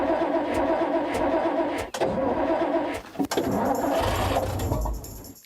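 A British Cold War Mark III Ferret armoured car engine is cranked over, giving a loud, continuous mechanical churn broken by a couple of short pauses and a sharp knock near the middle.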